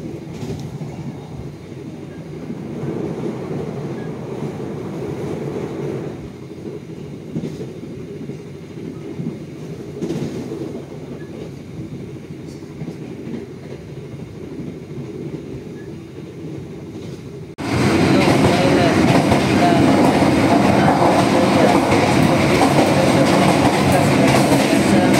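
Madiun Jaya executive passenger train running, a steady low rumble of the moving train that swells sharply louder in the final stretch, with no voices.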